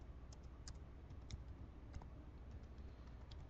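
Faint keystrokes on a computer keyboard tap out a short name in irregular bursts over a low steady background hum.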